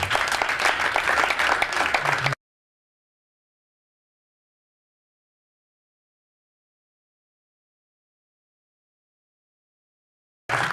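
A church congregation applauding loudly to thank Jesus, a dense burst of clapping that cuts off abruptly after about two seconds, followed by silence before a brief return at the end.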